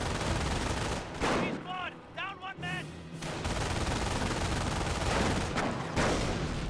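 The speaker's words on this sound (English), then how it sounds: "Captain got gunned down by the MG42." MG42 machine gun in the Company of Heroes video game, firing bursts of gunfire amid battle noise, with a brief voice shout in the middle.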